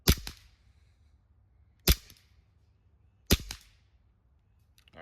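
A Barra 009 full-auto CO2 BB pistol fires three sharp, snapping bursts spaced a second or so apart, each with a quick rattling tail. A voice speaks briefly between the shots.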